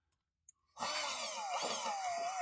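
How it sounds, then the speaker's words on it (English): An electric drill turns a spring on the planetary gear of a G37 convertible finisher/flapper trim. A couple of faint clicks come before a loud, steady, close whirring whine that wavers slightly in pitch. "I literally just took an electric drill and put it on the end of that spring"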